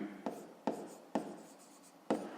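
Pen strokes on paper while a maths exercise is worked out: four quick, crisp taps and scratches spaced about half a second apart, close and quiet against a faint room background.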